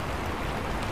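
Steady rain pours down during a motorcycle ride, a dense constant hiss of falling drops filling the clip with no distinct pauses and no talking.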